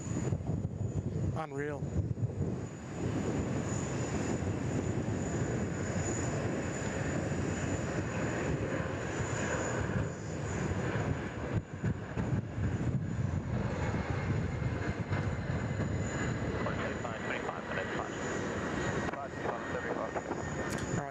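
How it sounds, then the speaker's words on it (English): Boeing 767-300 freighter, formerly flown by All Nippon Cargo, climbing away from Sydney bound for Hong Kong: a steady, moderately distant jet roar with wind buffeting and brief exclamations from a nearby voice. "The 767-300 freighter, formerly flown by All Nippon Cargo"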